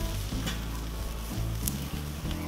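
A chuck roast sizzles on a Weber kettle grill with a steady, dense sizzle throughout, loud and close. Low thumps and shifting sounds come from the meat being turned.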